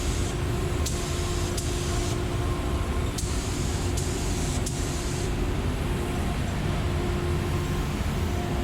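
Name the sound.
spray gun applying primer to a 1935 Chevy hood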